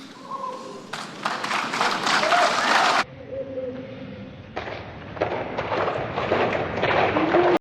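An audience applauds during a Greta Thunberg speech, a burst of crowd clapping that cuts in abruptly, drops away, then resumes with a second wave of clapping, with some faint tones under it.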